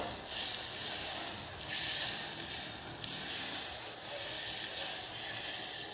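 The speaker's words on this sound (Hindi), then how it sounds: "बटर को मैं थोड़ा सा मेल्ट करूँगी।" A few spoonfuls of butter melting over low heat in a pan, a soft, even hiss with gentle swells, faint and close, no voices.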